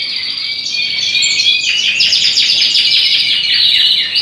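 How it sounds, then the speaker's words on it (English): Canaries or similar cage birds chirp and trill in an indoor birdroom at first light, a close, bright run of rapid tweets and rising song phrases, loud and alone without talk. "The birds are waking up with their natural daylight."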